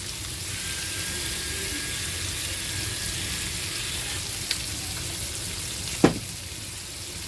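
Seasoned vegetables sauté in a pan with salt and pepper, giving a steady, close sizzle throughout, with a faint tick partway and a sharp clank of a utensil near the end.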